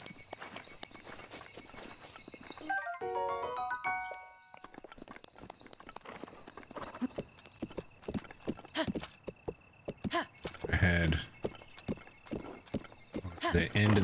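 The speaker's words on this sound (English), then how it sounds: "Horse?" Hooves clip-clop in a steady walking rhythm, with a horse whinnying once, under ambient game music and a faint voice, in Zelda: Breath of the Wild.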